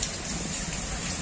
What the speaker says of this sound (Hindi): आज फिर बारिश हो रही है।